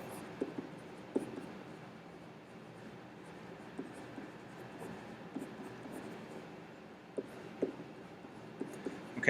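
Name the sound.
writing with a pen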